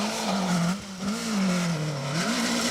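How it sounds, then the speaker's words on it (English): A Proton Satria 1400 rally car on a stage of the Malcolm Wilson Rally screams at high revs, its pitch rising and falling through gear changes, loud and continuous, with a howling squeal from the brakes mixed in. "the brakes howling, and that engine screaming on Chris Farrell's Proton Satria 1400"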